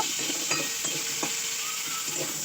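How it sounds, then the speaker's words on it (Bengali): Potatoes fry in oil in a wok, a bright continuous sizzle with repeated scraping stirs of a spatula, close and fairly loud. "এগুলো একটু ভেজে নেবো, নাড়াচাড়া করে লাল করে একটু ভেজে নেবো"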